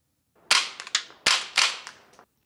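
A suppressed rimfire rifle fires a quick string of about five sharp, muted cracks close by, each with a brief decaying tail, in otherwise quiet surroundings.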